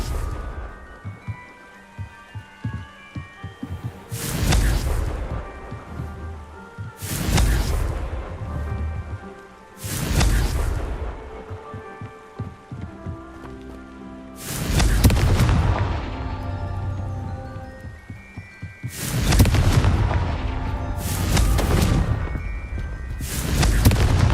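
Repeated spell blasts in the Hogwarts Legacy game during a Merlin trial, about seven loud booming bursts at uneven intervals a few seconds apart, each rising sharply and fading, over a steady background of game ambience and music.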